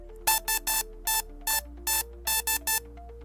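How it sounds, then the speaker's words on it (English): A Morse code machine sounds a series of about nine short, steady, bright electronic beeps of varying length in an irregular keyed rhythm, close and clear over a low hum, with no talking. "it's a Morse code machine"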